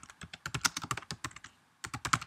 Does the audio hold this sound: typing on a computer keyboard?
yes